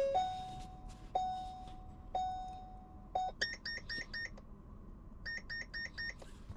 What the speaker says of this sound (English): all the needles, making some cool beeps